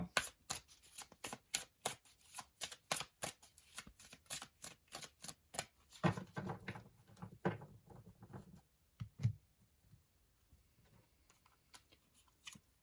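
Tarot cards being shuffled in a rapid run of crisp riffling flicks, followed by a softer burst of card handling and a few scattered taps, close and clear with no talking.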